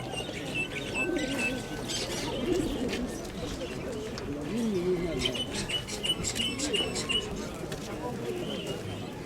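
Pigeons coo in low, rolling phrases amid a busy chorus of other birds chirping at a bird fair in Dnipro, with some voices murmuring in the background throughout.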